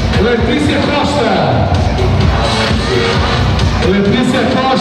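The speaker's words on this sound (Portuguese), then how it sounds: "Letícia Costa na passarela e recebendo os aplausos!" An audience cheers and claps loudly for a child model walking a runway at a kids' fashion show, a dense, continuous crowd roar of applause and voices with an announcer speaking over it.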